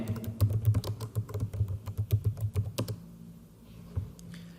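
Typing on a computer keyboard while entering expense details into point of sale software, a quick run of close, crisp key taps that slows and trails off into near quiet.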